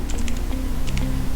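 Computer keyboard typing while writing HTML table code, quick clusters of close, crisp key clicks in short irregular bursts over a low background hum.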